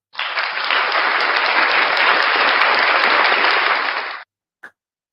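On a live-streamed talk show, a loud, even burst of crowd applause runs for about four seconds and then stops abruptly, followed by a brief short blip.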